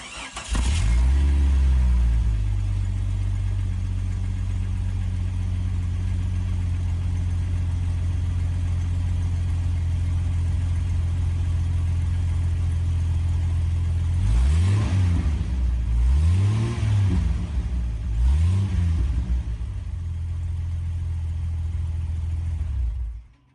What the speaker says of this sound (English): now I will start up the car and let you guys hear what it sounds